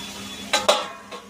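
Chicken and kandanakaya fry being stirred in a pan, giving a few close metallic scrapes and clinks of a utensil against the pan, two sharp strokes followed by a softer one, with a faint hum underneath.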